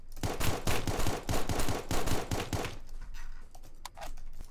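Rapid rifle gunfire rings out in the Roblox game Apocalypse Rising 2, a dense burst of sharp shots in quick succession for about three seconds, followed by a few scattered, quieter pops and thuds.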